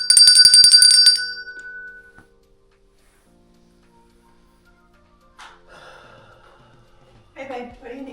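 A small hand bell rings in a rapid, bright jingle for about a second and then fades out, followed by quiet and later by talking.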